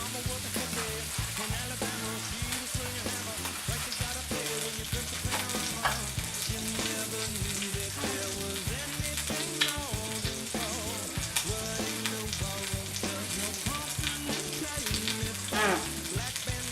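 Bacon frying on low heat, its fat rendering in a dense, continuous crackle and sizzle that runs loud and steady throughout, with a bed of background music mixed under it.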